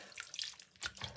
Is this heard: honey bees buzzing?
no